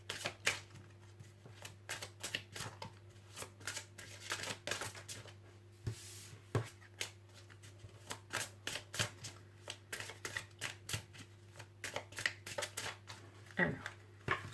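Oracle cards are shuffled in quick, repeated papery riffles and slaps, close and fairly quiet, forming an uneven rhythm of soft bursts against a faint low hum.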